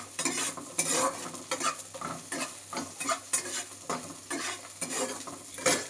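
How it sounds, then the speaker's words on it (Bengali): Onion and green chillies stirred in a frying pan: continuous close sizzling broken by rhythmic scraping and tapping of the spatula against the pan throughout. "সব হালকা করে একটু নেড়ে নেব।"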